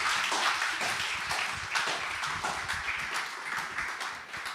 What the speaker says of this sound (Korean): 우리 나오실 때 우리 감사와 우리 축복의 박수 할렐루야 하겠습니다